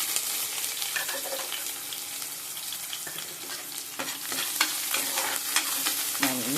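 Cumin, fenugreek seeds and urad dal fry in hot oil along with mustard seeds, giving a steady, dense sizzle with scattered crackles and occasional stirring scrapes throughout.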